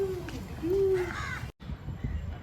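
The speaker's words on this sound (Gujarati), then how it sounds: "જો કાગડો આવ્યો, કાગડો બેટા કાગડો પાછળ પાછળ ફરે છે" A crow caws close by, a few drawn-out calls in the first second and a half, then only low background rumble remains.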